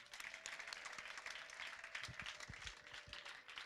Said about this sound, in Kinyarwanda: Amashyi kwa Yesu